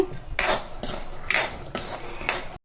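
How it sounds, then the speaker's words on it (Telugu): Peanuts being dry-roasted in a pan for a white chutney to go with pesarattu, heard as four rhythmic metallic scraping strokes of a spatula against the pan, close and moderately loud, ending abruptly. "ఇంక చట్నీకి పల్లీలు వేయించుతున్నాను"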